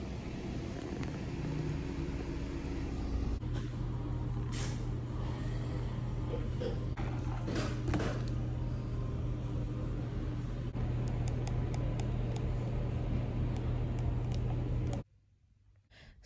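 A car driven by a new driver, heard from inside the cabin as a steady low engine and road drone with some rattles and bumps, ending abruptly near the close.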